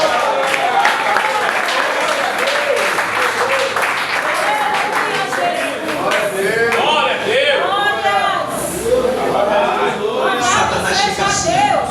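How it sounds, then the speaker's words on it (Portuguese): A church congregation claps steadily and loudly throughout, with voices cheering and calling out over the applause in a large reverberant space during a worship service. "Alguém vai aplaudir e glorificar a Deus."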